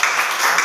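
Students in a classroom clap together, a short, dense burst of applause that is loud and close.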